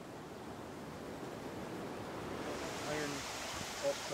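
Waterfall in the Reelig Glen forest heard as a steady broadband rush of falling water that grows a little louder partway through, with faint bird chirps near the end.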